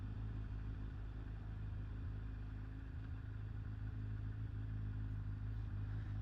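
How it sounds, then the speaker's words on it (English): A motorcycle engine idles high on a ride near Ironbridge, a steady close low rumble holding constant throughout with no talk. "It's revving a bit high, that is."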